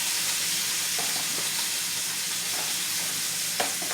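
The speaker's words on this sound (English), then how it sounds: "We're not cooking them. We're just searing the flavor in." Meat for birria sears in a hot pan, a steady loud sizzle and hiss up close, with a few soft knocks as pieces are moved.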